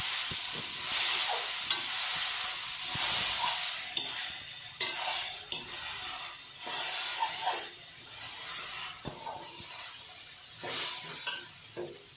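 A coconut laddu mixture is stirred in a pan, with a spatula scraping in irregular strokes over a continuous hissing sizzle. There is no talk.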